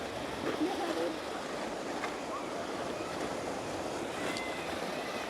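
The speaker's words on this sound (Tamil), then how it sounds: "அருவி மாதிரி செய்யுதுடா பைப்பால் மோட்டர் விட்டு தண்ணி வருது" Pump-driven water from a pipe spills down an artificial waterfall in a zoo bear enclosure in Germany. It makes a constant broadband rushing wash, fairly faint and steady throughout, with a bit of wind noise on the microphone.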